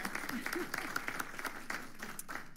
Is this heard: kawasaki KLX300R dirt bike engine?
no